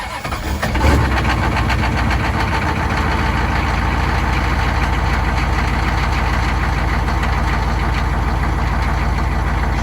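A 6.5 turbo diesel dually pickup cranks and fires within the first second, then settles into a loud, steady, clattering diesel idle close by for the rest of the time.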